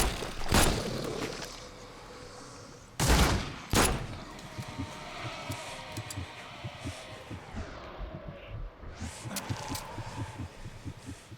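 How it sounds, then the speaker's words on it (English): Gunfire from an enemy wielding a shotgun in The Sinking City: a few sharp, loud blasts near the start and around three to four seconds in, then scattered fainter shots and footsteps over a steady ambient bed. "Why's that guy shooting me? Where'd he get a shotgun from?"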